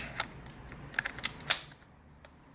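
Plastic shells clicking and snapping into the shell port of a full-metal CYMA CM.361 airsoft pump shotgun, a few sharp close clicks with one louder snap near the middle.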